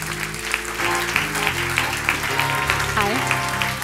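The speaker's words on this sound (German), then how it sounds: "Ich bitte jetzt Asuman Lezalazar auf die Bühne mit einem kräftigen Applaus und Musik." Audience applause and cheering at the 2017 Erfurt ScienceSlam as a speaker is called to the stage, a steady wash of clapping running under loud, tonal stage music throughout.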